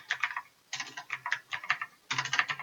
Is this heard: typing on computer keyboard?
yes